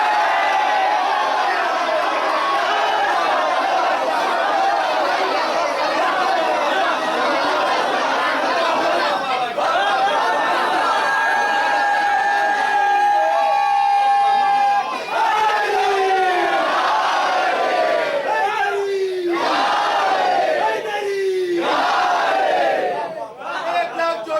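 A large crowd at a religious majlis loudly chanting slogans in unison, a continuous roar of many voices with a single leader's call rising and falling above it.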